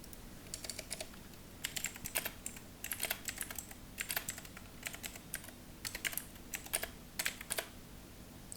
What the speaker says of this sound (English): I'm just going to type something here.